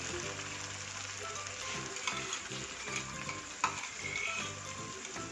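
Chillies sauté in oil in a pan with a close, steady sizzle and crackle, broken by light stirring scrapes and small clinks throughout.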